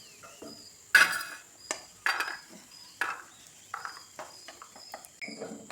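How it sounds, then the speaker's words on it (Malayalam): A spoon scoops ghee-fried cashews and raisins from a pan into a bowl, giving a series of distinct metallic scrapes and clinks spaced about a second apart, close and fairly crisp with faint sizzle between. "മൂത്ത് വന്ന അണ്ടിപ്പരിപ്പും മുന്തിരി നമുക്ക് ഒരു പാത്രത്തിലേക്ക് കോരി വയ്ക്കാം."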